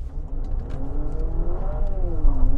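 A Honda CR-V Hybrid RS, 207 PS, in sport mode, accelerating hard from a standstill on an empty road: a loud, close engine and motor whir climbing steadily in pitch and then leveling off, with no talking.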